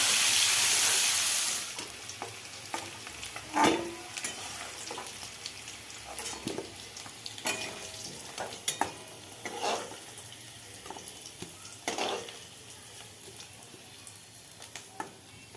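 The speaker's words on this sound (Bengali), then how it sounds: "কড়াইতে সর্ষের তেল দিয়ে দিলাম আলুগুলো ভেজে নেব" Potatoes fry in mustard oil in a wok, sizzling softly with occasional clinks and stirring sounds, a steady quiet hiss punctuated by scattered sharper pops.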